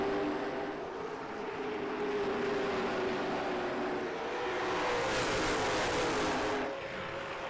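Late model race cars roar around an asphalt oval during a heat race, engines droning loudly and steadily as a pack passes close by, with a swelling surge near the end and no talking.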